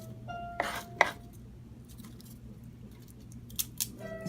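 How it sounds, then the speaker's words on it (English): Knife snips through the tips of garlic cloves while preparing Mexican beef vegetable soup, giving two sharp cuts close together near the start and a few lighter clicks later, over a low kitchen hum. "right now we're preparing the garlic. And you're going to cut off those tips"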